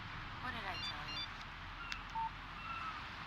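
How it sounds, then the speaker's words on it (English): A phone in the Alan Wake video game chirps out a short run of electronic text-alert tones, then a single beep follows over a quiet background hum. "Text message from Barry"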